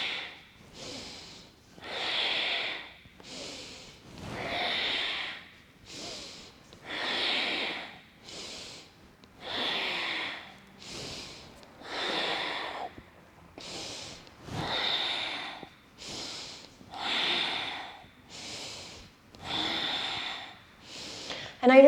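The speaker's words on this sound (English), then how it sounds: "Exhale as you sweep, inhale back to center." Rhythmic yoga breathing during a full moon Kundalini kriya, with about twenty-two forceful breaths alternating exhale and inhale in a steady, fast, even cycle, close and fairly loud with no talk over them.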